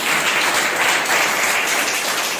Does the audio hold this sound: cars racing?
no